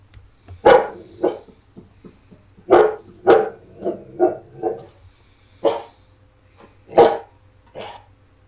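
Dog-like creature barking in the video game Palworld, a series of sharp woof-like barks in short irregular bursts over a faint steady low hum, loud and close, with no talk.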